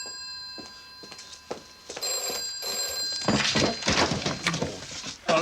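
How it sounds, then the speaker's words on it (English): A telephone rings in an indoor setting, several short bell-like trills repeating in a steady rhythm, followed by rustling and handling noises as the receiver is picked up. "The phone's ringing."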